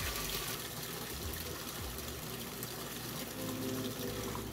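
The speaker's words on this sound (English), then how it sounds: "I'm just starting the washing machine and getting that ready, putting in detergent and fabric softener as well" A washing machine fills with water in a steady, dense gush with a low pump-like hum, close and continuous throughout with no voices.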